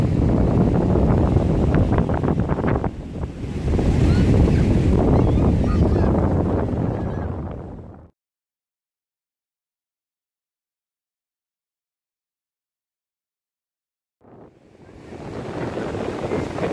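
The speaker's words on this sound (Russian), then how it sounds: "Прилив. Смотри, какой прилив." Rising tide at Scheveningen beach in Den Haag, with waves rushing in as a loud, steady roar mixed with wind buffeting the microphone. The noise cuts out into total silence for several seconds, then the surf and wind noise return.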